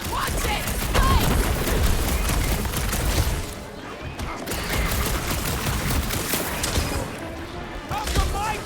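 Rapid gunfire in a battle in the game Guardians of the Galaxy, with dense bursts of shots and mechanical clatter under shouted voices, loud and continuous with a short lull midway.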